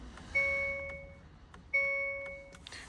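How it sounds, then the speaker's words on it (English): Two electronic chimes from a Ghost immobiliser in a 2023 Hyundai Tucson confirming success, each a bright sustained tone held about a second, spaced evenly apart against a quiet background. "That gives us 2 flashes and 2 chimes to confirm it's successful."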